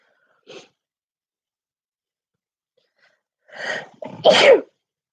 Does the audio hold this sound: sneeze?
yes